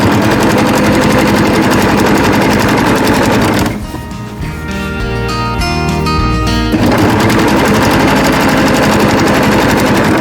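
A sewing machine with a 1/4 inch foot stitches folded binding strips onto a quilt with polyester batting, running as a loud, steady rapid mechanical whir, pausing briefly midway with a slower, lighter run before resuming at full speed.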